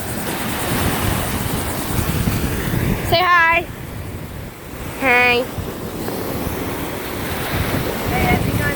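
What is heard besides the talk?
ocean waves in the intracoastal waterway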